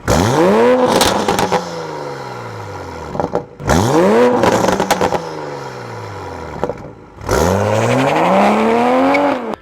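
A Toyota Supra's B58 engine with stock exhaust and catless downpipe revs hard in three loud pulls, each climbing then falling with crackles, separated by brief lulls.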